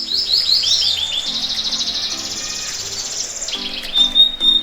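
A Javan bush lark (beranjangan), a small songbird known for mimicking other birds, sings a continuous, bright, high-pitched stream of chirps and trills, close and steady, with a few sharper whistles near the end.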